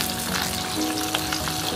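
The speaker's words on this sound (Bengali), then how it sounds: "সর্ষের তেল দিয়ে, গরম তেল দিয়ে আমরা এখানে ভেজে নিচ্ছি" Hilsa fish tails fry in hot mustard oil with a dense, continuous sizzle and scattered pops, close and steady throughout.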